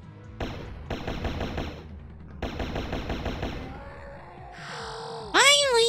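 Rapid automatic pulse rifle fire in a sci-fi video game, two sustained bursts of loud, close shots followed by a rising electronic weapon tone and a sharp synthetic sting at the end.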